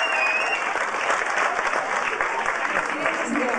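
A crowd claps warmly for a lady performer at a comedy show, sustained dense applause throughout with a faint voice briefly audible beneath the clapping.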